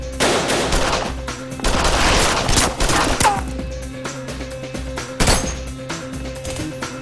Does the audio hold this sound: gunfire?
yes